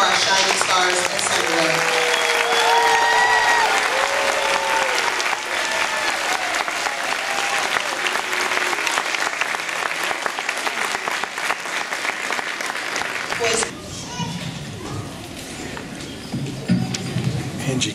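An audience at a school holiday chorus concert applauds the young singers. Loud, dense clapping runs for about thirteen seconds with some cheering, then thins into scattered claps and chatter.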